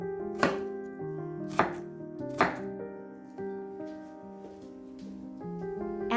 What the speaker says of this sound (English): Use a sharp, wide knife. It'll make cutting onions easier and with fewer tears.